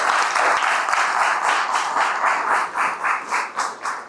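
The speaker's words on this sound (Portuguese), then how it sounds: "E eu peço para todos vocês uma merecidíssima salva de palmas para o William" Applause from a lecture audience at a Brahman cattle competition final, opening as a dense clatter and settling into a rhythmic, synchronized clapping that pulses in regular beats toward the end.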